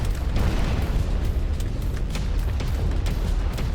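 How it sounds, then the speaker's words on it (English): Rocket explosions in Instruments of Destruction: heavy booming blasts roll together into a steady, loud rumble, with sharper bursts popping through it. "I'm trying to destroy stuff with rockets"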